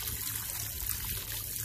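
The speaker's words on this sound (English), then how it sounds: "I am actually going to fill these buckets all the way to the top after I finish pouring this water in it." Water pours steadily into a 5-gallon bucket used for growing potatoes, a continuous close trickling and splashing rush with no break.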